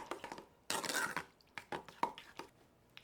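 Apricot and other fruit are stirred into yogurt, giving soft wet squishes and light spoon clinks against the bowl. The sounds come in a few short, irregular bursts close by, with quiet gaps between them.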